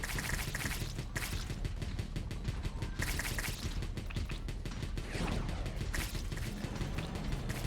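Rapid machine gun fire in the video game Wall World, a dense continuous rattle of overlapping shots packed with mechanical clatter and game effects, loud and sustained throughout.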